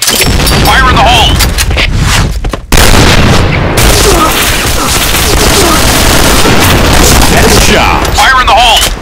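Grenade blasts and rapid gunfire in the Point Blank shooter game, loud and dense throughout with a brief dropout near the middle, with voices calling out over the action.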